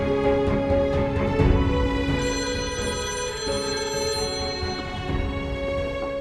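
A telephone rings indoors in a domestic drama scene, a steady, continuous electronic trill heard alone with no talking over it.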